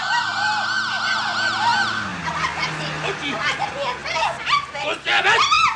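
A police siren wails in rising and falling sweeps, then gives way to agitated, overlapping voices shouting close by.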